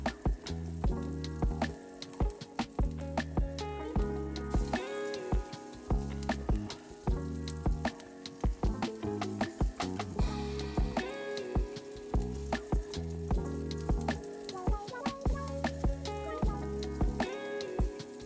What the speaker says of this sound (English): add in your meatballs, and you're just gonna cook until golden and crispy on each side